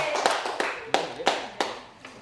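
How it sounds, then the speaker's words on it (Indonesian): A classroom group claps hands in a few sharp, separate bursts, about five distinct loud claps spaced unevenly over two seconds, fairly close. "Tepuk tangan buat kelompok 1"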